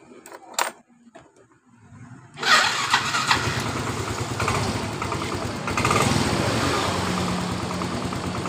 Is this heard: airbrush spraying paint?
no